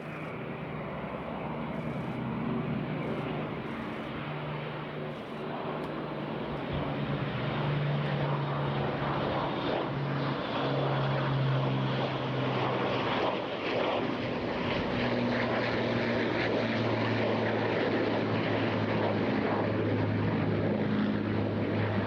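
The four-engine heavy bomber PA-474 flies past at the Eastbourne Airshow, a loud sustained propeller drone with a deep throbbing engine hum that swells and holds steady throughout.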